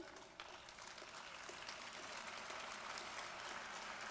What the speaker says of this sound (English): please also applaud my fellow chairs